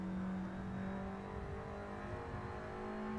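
Race car driving on the Mugello circuit, its engine holding a steady, loud droning note heard from inside the car with no talk over it.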